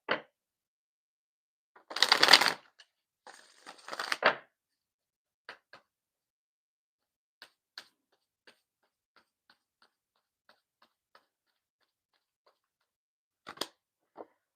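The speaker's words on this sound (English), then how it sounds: "We'll do one more. Get a better shuffle there." Tarot cards are shuffled in a few short papery riffling bursts early on, followed by scattered faint taps and card clicks in an otherwise quiet room, with a last brief flick near the end.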